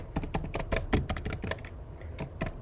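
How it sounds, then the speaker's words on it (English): Keys on a computer keyboard are typed in a quick, uneven burst of close, crisp clicks with short gaps between them, heard alone at low volume. "So let me type one over here."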